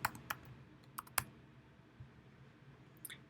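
Keystrokes on a computer keyboard typing a plugin search term, a short irregular burst of crisp close clicks followed by sparse single taps in a quiet room.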